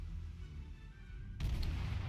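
The German cruiser Kolberg fires its guns in World of Warships, a sudden heavy boom cutting in partway through over a low rumbling game ambience.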